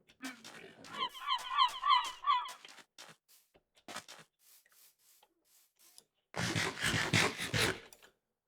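Seagulls in a Minecraft game squawk and honk in a cluster of harsh, nasal cries, followed by scattered scratchy scraping sounds and a loud rough burst near the end.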